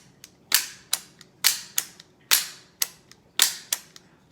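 Pistol magazines clack sharply as they are seated into and yanked out of a Canik Combat Elite handgun, about a dozen crisp metallic clicks and snaps in irregular pairs, close and loud in a quiet room.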